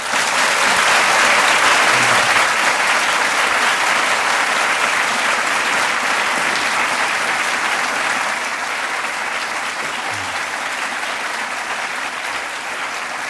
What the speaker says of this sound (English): there is more applause here than in the European Parliament